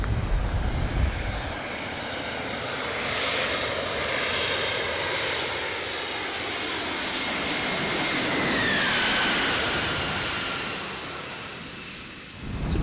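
Aircraft engine roar at the UN-guarded international airport compound in Mogadishu, a loud continuous jet drone that swells and fades with a whining tone sweeping down, dominating with no talk.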